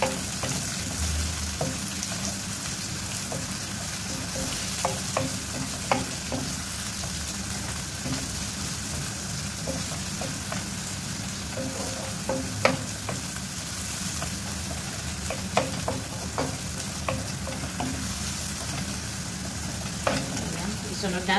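Onion sautéing with garlic in a pan for ginisang buto ng sitaw, a constant fizzing sizzle with frequent scraping stir clicks and taps throughout, no one speaking.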